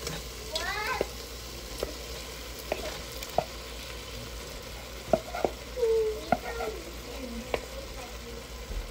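Shrimp and crabs are added to a frying pan for a Korean sweet chili spaghetti dish: steady sizzling with scattered clinks and scrapes of a utensil, plus brief squeaky sounds over the frying.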